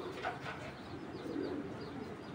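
A female pigeon in a breeder's collection, currently raising young, coos in soft repeated low calls alongside faint chirps from other birds nearby.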